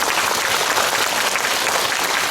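An audience at a film event at CGV Yeongdeungpo claps in a dense, steady burst of applause throughout, loud and close.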